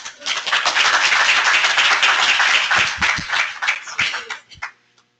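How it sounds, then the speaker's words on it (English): Attendees at a New Jersey environmental site-remediation training session clap for a speaker, a brisk burst of many hands that holds steady, then thins to scattered claps and stops near the end. "let's give Mike a round of applause"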